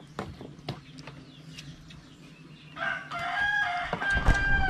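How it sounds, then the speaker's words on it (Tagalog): Rooster crowing during a visit to a farm in Tuburan, Cebu, with a couple of sharp knocks first, then a bright, drawn-out crow close by and quite loud over a soft background. "basta mag-farm visit tayo, di mawawala ang tinibuok ng manok"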